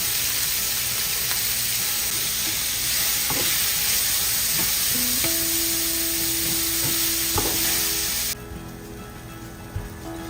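Sliced onions with a sprinkle of salt, cardamom and a cinnamon stick fry steadily in hot oil, giving a loud, constant sizzle with occasional stirring scrapes and taps, ending a little quieter.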